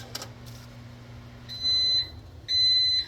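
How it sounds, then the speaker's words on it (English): Two long electronic beeps from a microwave oven finishing, spaced about a second apart, over a low steady hum. "We have just about 5 seconds left on the microwave before it beeps at me."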